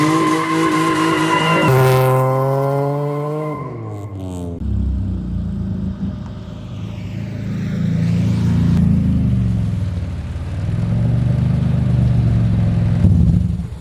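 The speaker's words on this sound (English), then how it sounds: "I was wanting to do that because I have yet to do a burnout in this car" A J-swapped Honda Civic does a burnout: the engine revs up hard, then the tires squeal and skid loudly for many seconds, the screech wavering up and down close by.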